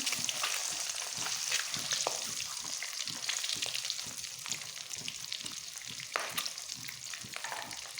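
Fish eggs fry in lightly salted oil for a spicy egg bhuna, a loud, bright, crackling sizzle with frequent sharp pops and stirring scrapes running over it, close by and continuous.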